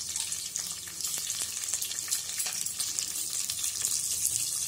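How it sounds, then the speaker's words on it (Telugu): Green chillies and ginger pieces sizzle in hot oil in a pan while tempering for Chennai-style hot pongal, a steady, close crackling hiss with small pops throughout. "బాగా ఫ్రై చేసుకోవాలి."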